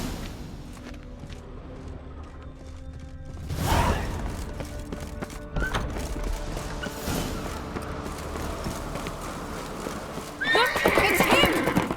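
A horse in The Witcher 3 whinnies loudly over a busy game soundscape, with clip-clopping hooves and shuffling movement throughout, while characters speak.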